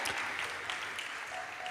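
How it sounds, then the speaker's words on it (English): Attendees at a temple festival gathering applaud to welcome a speaker, producing a brief, full round of many hands clapping in a steady, dense wash from start to finish. "We can give a big round of applause to welcome Mataji."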